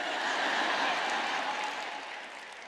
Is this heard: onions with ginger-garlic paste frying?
no